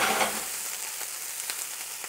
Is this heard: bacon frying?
yes